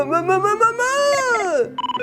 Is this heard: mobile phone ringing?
yes